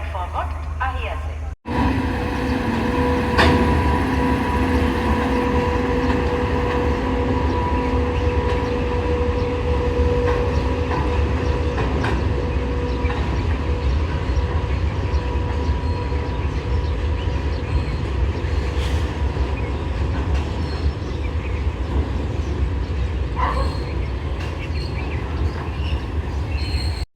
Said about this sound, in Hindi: यही वो ट्रेन है जिससे आज रात को मैं ट्रेवल करने वाला हूँ